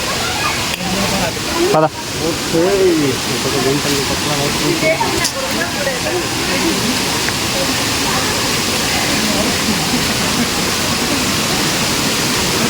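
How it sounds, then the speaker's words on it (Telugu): Durgapadu waterfall on the Andhra–Odisha border roars as a steady broad rush of falling water close by, with a voice speaking briefly over it. "ఫైనల్గా వాటర్ ఫాల్స్ ఎంటర్ అయిపోతున్నాం."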